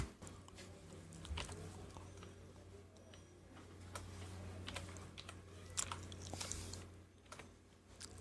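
Computer keyboard keys clicking in irregular bursts as Bengali text is typed with Avro software, close and fairly quiet over a faint steady hum, with no speech.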